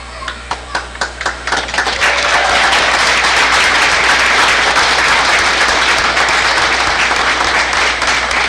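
Audience clapping at a school board meeting, a few separate claps at first that quickly build into steady, loud applause from a room full of people.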